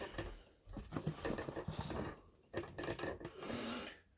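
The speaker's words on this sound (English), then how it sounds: "I think I'm going to scrape this right to the bottom." A tool scrapes and rasps along the bottom of a vermicomposting bin in rough, repeated strokes, fairly close, with brief pauses between bursts of scraping.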